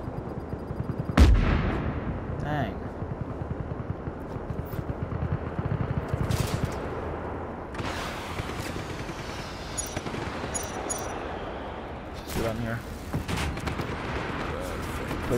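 Grenade blast and gunfire in Just Cause 3: a sharp explosive thump early on, then rolling bursts of shots and booms across a busy game battle, with voices talking over it.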